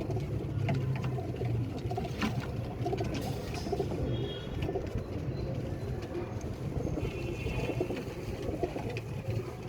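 Pigeons coo steadily in a busy, enclosed space, their low throaty calls overlapping with a constant background hum throughout.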